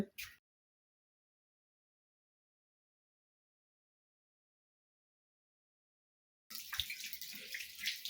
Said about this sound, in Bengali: আমি ভাত খাওয়ার জন্য হাত ধুয়ে নিলাম